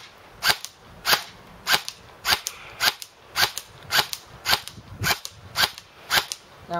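An airsoft gun fed from Beta Project PMAG magazines fires single semi-automatic shots, about a dozen sharp close cracks spaced roughly half a second apart in a steady rhythm, with no talking.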